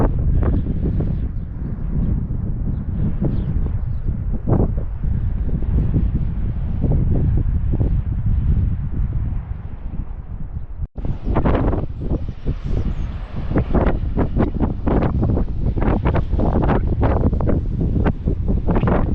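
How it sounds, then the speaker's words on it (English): Cold wind gusts steadily outdoors on the Isles of Scilly, a loud, continuous roar buffeting the microphone for the whole stretch, briefly cutting out midway before returning harsher and more turbulent. "the wind is still pretty cold"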